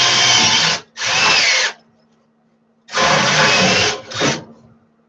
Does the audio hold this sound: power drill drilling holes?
yes